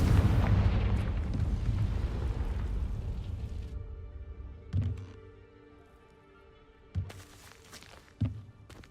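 In Hogwarts Legacy, a Confringo fire spell blasts with a loud, rumbling explosion that fades over several seconds, followed by three smaller thuds.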